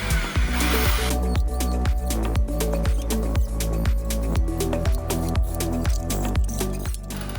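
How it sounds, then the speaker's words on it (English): Holes are drilled during assembly of a generator frame, with a steady power-tool whine and a repeating pattern of short, sharp strokes, close and continuous throughout. "We drill."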